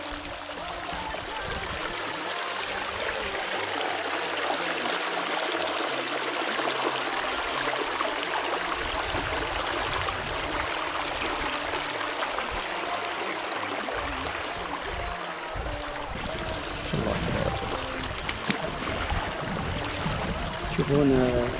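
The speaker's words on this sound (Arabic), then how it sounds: "هذا الموقع ممتاز عشان الصوت الماء" Water flows steadily through a green valley stream in Wadi Qanuna, Tihamah, a continuous broadband rush and trickle heard up close, with faint voices and some splashing near the end.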